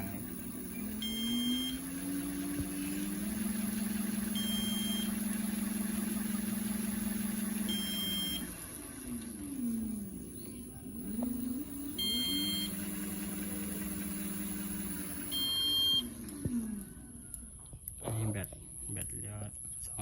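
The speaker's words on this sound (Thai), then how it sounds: "ก็จะมีเสียง เสียงคือเสียงแจ้งเตือนตลอด" A foldable electric bicycle with a removable battery gives repeated alert beeps after its key is switched on, short double beeps recurring every few seconds over a low hum, while someone talks throughout.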